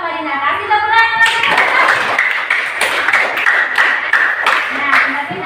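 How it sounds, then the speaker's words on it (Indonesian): Children clap their hands together in a classroom, a fairly loud burst of many quick claps that starts after a brief spoken prompt from an adult woman and carries on steadily, with young voices mixed in. "Kasih tepuk tangan."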